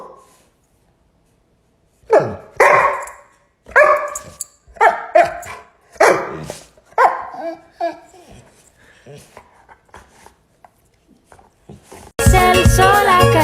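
A dog barks repeatedly at close range in a series of sharp separate barks, tapering into softer yips, after a person makes barking sounds. Music starts abruptly at the end.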